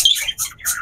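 Short, high squeaky calls of baby pigeons in three quick bursts, close and fairly loud, like begging.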